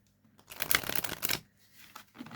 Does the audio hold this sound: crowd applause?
no